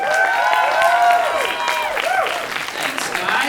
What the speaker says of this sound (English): Ladies and gentlemen, please put your hands together for Day Award!